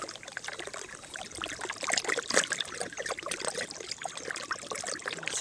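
Water gurgles and trickles steadily through a debris-clogged overflow pipe at a wetland, a close, continuous rushing babble with small surges and no voices.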